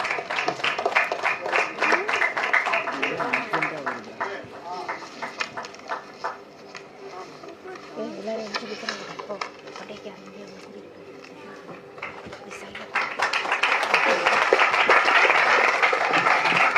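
A crowd applauds at the Prajapathi film trailer launch event, clapping that fades and returns. It swells again loudly near the end while an announcer speaks over it.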